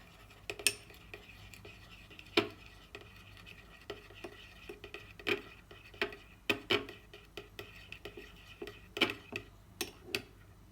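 A utensil stirs yeast into warm milk in a bowl for brioche dough, giving irregular clinks and taps against the bowl spread across several seconds, close and fairly clear, with no voices.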